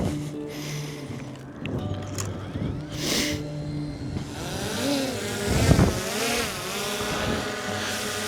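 DJI Mini 4 Pro drone lifting off from a hand, a buzzing propeller whine that rises and wavers in pitch, near and steady, with a brief louder burst midway.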